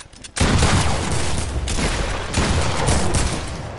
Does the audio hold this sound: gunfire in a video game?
yes